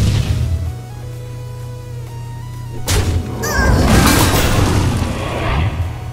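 A Shooting Star spell effect fires in Hearthstone, a loud booming impact with crashing, sparkling bursts that rises over a sustained musical drone and stays dense for several seconds.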